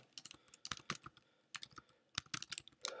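Clattering keystrokes on a computer keyboard while composing a WordPress post, coming in quick uneven bursts with short pauses between them, close and fairly quiet, with no talking.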